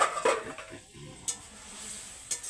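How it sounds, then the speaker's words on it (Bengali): A lid lifts off a cooking pot of small-fish curry with vegetable stalks, eggplant and peas, giving a couple of light metallic clinks and scrapes over a faint background simmer. "এবার ঢাকনাটা তুলে দিচ্ছি"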